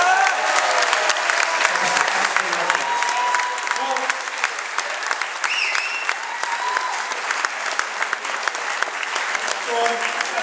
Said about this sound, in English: A big round of applause for the one and only Darian MacKinnon.